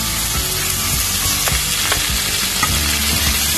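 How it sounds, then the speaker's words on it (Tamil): A handful of curry leaves fries in sesame oil in a pan for a crab roast, with a loud, dense, close sizzle and crackle mixed with stirring throughout. "நல்லெண்ணெய் போட்டுக்கலாம், அதுல 1 கைப்பிடி கருவேப்பிலை."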